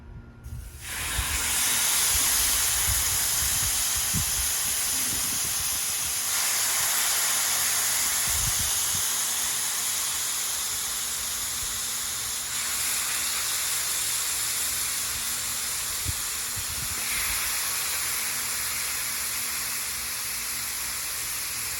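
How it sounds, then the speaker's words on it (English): Chicken for citrus chicken tacos cooks in a hot pan, sizzling in a loud, steady hiss that starts abruptly and holds for about twenty seconds with faint clinks of a spoon, and no one talking. "And we're gonna start cooking the chicken"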